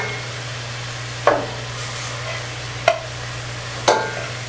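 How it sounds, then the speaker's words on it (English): Ground beef sizzles steadily in a pot for chili, with three distinct scraping clicks as it is broken up and stirred at a slow, uneven pace, close by and with no talking. "Then break down the beef just a tiny bit today."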